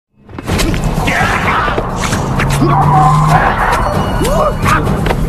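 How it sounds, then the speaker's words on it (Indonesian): A car swerves and skids into a ravine in a thriller film, tires squealing loudly amid a rush of engine and crash noise that starts abruptly and stays dense, under a film score. "Orang itu pun mati dan mobil mereka oleng masuk ke jurang."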